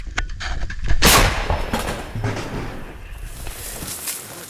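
A 2S5 Hyacinth self-propelled gun fires once at a front-line position. A sharp, heavy blast is heard from some distance and rolls into an echoing rumble, after scattered thuds and faint movement beforehand.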